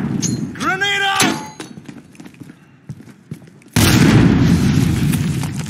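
A grenade explodes in Call of Duty: Modern Warfare, a sudden loud, sustained blast that fills the last couple of seconds. Before it, a voice calls out and there are scattered in-game thuds and effects.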